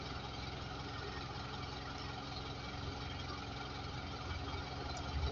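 Isuzu N Series truck diesel engine idling steadily after start-up, a dense continuous rumble with a faint knocking texture, close and even throughout with no talking.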